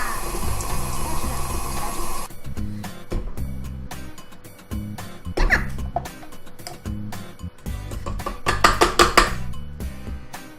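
An electric mixer beating cookie dough with butter runs with a steady motor whir for about two seconds, then stops, followed by scattered clatter and bowl-scraping noises.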